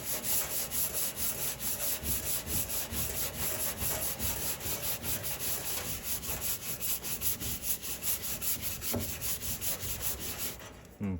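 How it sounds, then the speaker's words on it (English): A stiff brush scrubs a fireplace surface in steady back-and-forth strokes, close and continuous for the whole stretch, with no voices. "I'm gonna go ahead and clean off the brush now so that we don't have as much stuff on there anymore. And I'm gonna give it another scrub through."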